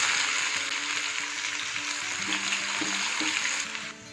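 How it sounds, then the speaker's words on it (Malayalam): Onions frying in oil for biryani rice, a steady bright sizzle holding evenly for several seconds close up, with faint clinks beneath and the hiss easing slightly at the end. "നമുക്ക് ബിരിയാണിക്ക് റൈസ് തയ്യാറാക്കാനായിട്ട് ആദ്യം ഉള്ളി ഒന്ന് പൊരിച്ചെടുക്കണം"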